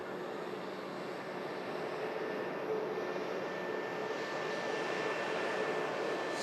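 A Qatar Airways A350 jet touches down at Manchester Airport, heard as a steady, fairly distant roar of engine noise that swells slightly toward the end.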